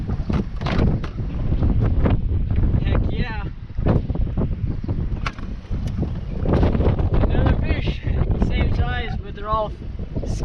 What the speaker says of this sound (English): So windy, I hope you guys can hear what I'm saying.